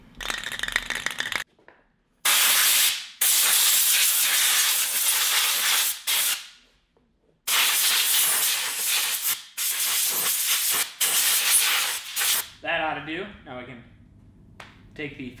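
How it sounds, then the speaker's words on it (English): Touch-up paint sprayed from an aerosol can while reviving an off-road Subaru Yerf Dog go-kart, heard as several loud hissing bursts of a few seconds each with short gaps, followed by a voice speaking. "Just gonna spray a little bit of touch-up paint."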